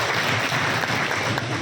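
An audience claps to welcome a guest at a public gathering, dense sustained applause that stays loud and even for the whole moment without talk.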